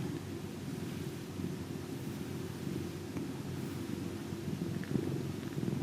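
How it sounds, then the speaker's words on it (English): A cat purrs with a low, steady, rumbling rhythm while being gently brushed with a Witford brush, the purr continuous and close, with faint soft brushing over it. "Trying to get those just little gentle purrs coming in."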